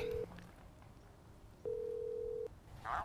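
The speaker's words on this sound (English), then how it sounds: "It's ringing." Telephone ringing through the receiver, a steady tone that sounds briefly, pauses, then sounds again for nearly a second, clear and close in a quiet room.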